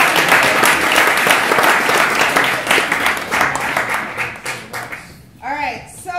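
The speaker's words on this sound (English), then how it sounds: "So one more round of applause for our..." A theatre audience applauds after a play, loud, dense clapping that rolls on steadily and fades out near the end, followed by a short voice.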